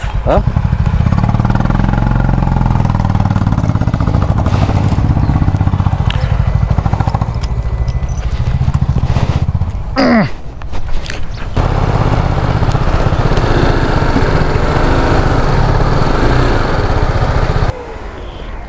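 A motorcycle engine runs loud and close while the bike is parked upright aboard the M2M ferry to Alibaug, a steady rumble with rattles and clatter, briefly dipping before settling again; a voice talks over it.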